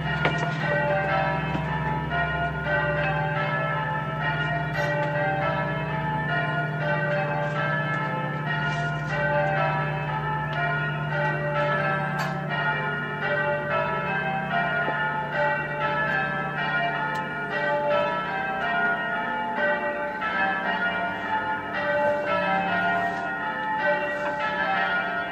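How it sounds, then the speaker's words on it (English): Church bells ring continuously in a dense, overlapping peal, steady and moderately loud for the whole stretch with no voices. "enjoy the church bells"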